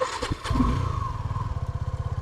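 A new motorcycle starts up and pulls away for a family ride, its engine settling into a quick, even putter after a brief rev, close and clear with no voices.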